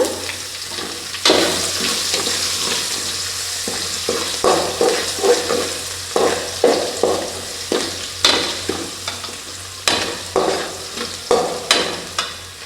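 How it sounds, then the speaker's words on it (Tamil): Crushed garlic goes into hot tempering oil with asafoetida, sizzling steadily up close while a spoon stirs and scrapes the pan in a run of rhythmic strokes, with no voices. "இதெல்லாம் நல்லா பொரிஞ்ச உடனே தட்டி வச்சுருக்க பூண்டு சேர்த்துக்கலாங்க."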